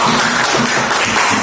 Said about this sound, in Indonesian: Oke, kasih tepuk tangannya dulu dong.